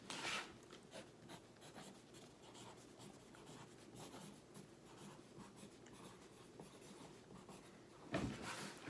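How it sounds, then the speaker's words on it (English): Handwriting on paper with a pen or pencil, a steady soft scratching rasp that carries on throughout at close range, with a brief louder rub near the end and no talking. "So my visual representation of this is, so I'm going to write right here."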